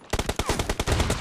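Rapid gunfire in PUBG Mobile, likely the M1014 shotgun during a team deathmatch, a burst of about ten sharp close shots in quick succession over roughly a second.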